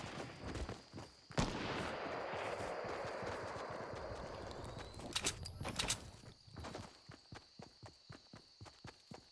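Gunfire in the video game Fortnite: a loud burst of shots and impacts in the first seconds, settling into a steady run of sharp, evenly spaced cracks toward the end.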